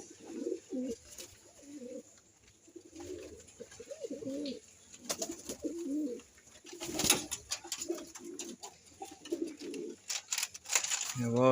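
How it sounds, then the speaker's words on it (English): A flock of pigeons coos repeatedly and close by while being fed, with soft overlapping burbling calls, scattered flutters and light outdoor clatter. "You have all kind of pigeons."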